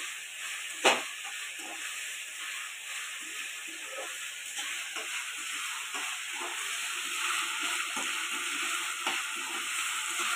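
Masala frying in a pan for a Bombay duck fish curry, a steady hiss and sizzle throughout with a sharp clack early on and occasional soft stirring scrapes.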